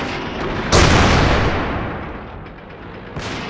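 Tank cannon fire in World of Tanks clan wars: one loud, close boom that rolls off into a long fading rumble, then a second shot at the end.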